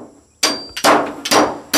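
A hammer strikes three loud, sharp blows outdoors, spaced roughly half a second apart, each ringing briefly before the next. No speech over the blows.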